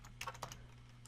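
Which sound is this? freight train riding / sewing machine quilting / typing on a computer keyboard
typing on a computer keyboard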